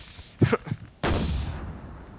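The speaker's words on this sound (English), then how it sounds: "Got these units of, of cannons chilling, firing at nothing apparently" Cannons fire in Napoleon: Total War, heavy booming blasts with one sharp distant report and then a closer, louder artillery boom that rumbles and fades, with no voices.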